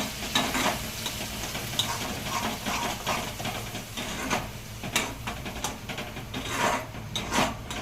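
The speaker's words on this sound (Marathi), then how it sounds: "आता जे आपण वाटप केलं होतं ते मिक्स करून घेतो त्याच्यामध्ये आणि मस्त आता भाजून घेतो आम्ही मसाला पूर्ण" Ground masala paste roasting in a pan for egg paneer curry, with a rhythmic spatula scraping and stirring over a constant sizzle, the strokes repeating close and fairly loud; no speech.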